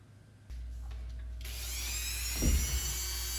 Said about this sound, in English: Using a Dremel first. It's a 220 grit disc, medium speed